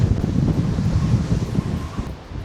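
Strong gusting wind in Lisbon, Portugal buffets the microphone with a loud, rumbling roar that swells and eases slightly throughout.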